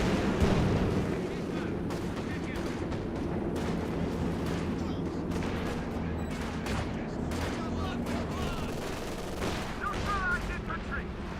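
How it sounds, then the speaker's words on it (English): A strafing run in the video game Company of Heroes 2 brings dense overlapping gunfire and booming explosions in a continuous battle din, with a commentator's voice talking over it. "And here comes the strafing run."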